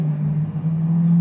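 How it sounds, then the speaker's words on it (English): Loud cars passing through a neighborhood at night, a steady low engine rumble and hum that holds throughout the short stretch with no talking. "I got some loud cars out in the neighborhood tonight"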